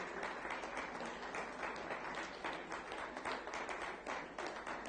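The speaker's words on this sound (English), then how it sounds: "so that you all can clap for them" An audience at a high-level policy panel applauds continuously, a dense, steady wash of clapping heard from a moderate distance, fairly faint and unbroken.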